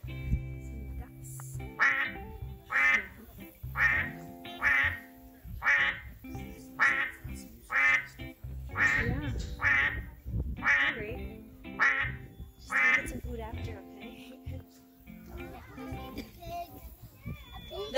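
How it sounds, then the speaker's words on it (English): Ducks on a farm quack in a steady repeated series of loud, nasal calls, roughly one each second, with children's voices chattering around them. "Some ducks."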